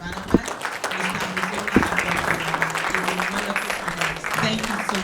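A conference audience at a panel session applauds warmly, a dense steady patter of many hands filling the room while a speaker's amplified voice carries over it.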